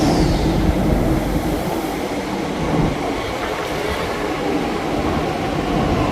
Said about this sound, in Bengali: তো আমাদের মেট্রো এখন চলে আসবে।